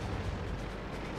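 A French AMX 38 tank fires its cannon in World of Tanks: one loud, dense booming roar that fills the whole moment without a break.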